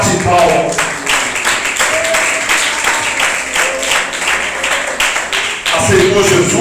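Church congregation clapping hands together in a steady rhythmic beat throughout, loud and close, with voices singing or talking beneath the claps.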